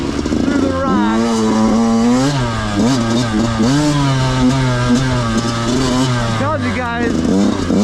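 A dirt bike engine running slightly lean on the bottom end revs and blips unevenly up close, its buzzy exhaust rising and falling throughout while a rider talks over it.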